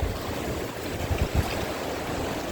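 Ocean waves wash over a rock jetty, a continuous loud rushing roar with a couple of heavier surges near the middle, close by and without talk.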